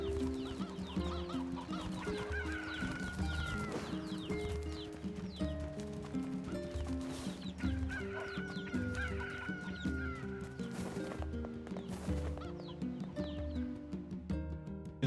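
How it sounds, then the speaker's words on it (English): Chickens cluck and squawk repeatedly in the Nier Replicant video game, with several birds calling over a game music backdrop, moderately near and continuous. "there's more chickens here than there usually is"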